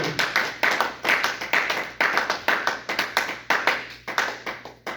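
Church congregation clapping in a steady, rhythmic unison beat throughout, loud and close, with faint acclaiming voices mixed into the claps.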